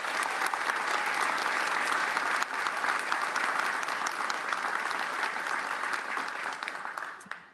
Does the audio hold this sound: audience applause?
yes